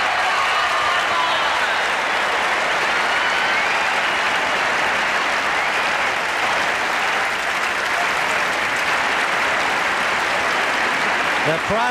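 Sustained, dense applause from a large tennis crowd at the US Open honoring Martina Navratilova and Bob Bryan, loud and steady throughout with no pauses.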